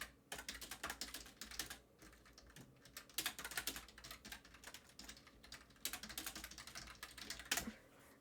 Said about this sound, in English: You're probably going to hear me frantically typing.